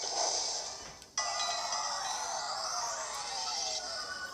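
A video game phone rings with a bright electronic tone, cuts off abruptly about a second in, then the ringing resumes and continues steadily at moderate loudness.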